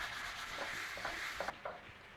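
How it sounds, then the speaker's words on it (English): A cloth or hand rubs oil around the inside of a pan, giving a soft, steady scuffing with a few small knocks, faint and close. "So that oil, rub around the pan."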